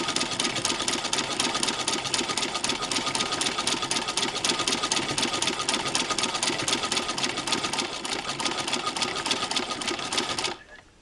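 A Singer 15-88 sewing machine fitted with a zigzagger attachment runs steadily with a fast, even mechanical clatter, stitching a baby jacket seam, and stops abruptly near the end.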